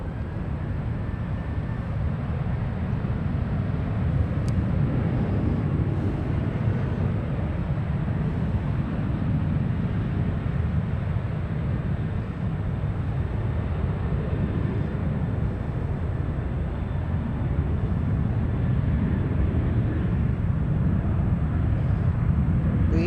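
An Air France airliner, flight 83, departs San Francisco bound for Charles de Gaulle, its jet engines producing a loud, continuous broadband roar that holds steady at a distance throughout.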